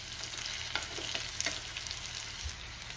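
Stuffed green chilies for a fasting-day dish fry in a pan, giving an even hiss and sizzle with a few soft knocks as they are flipped over, close and moderately loud.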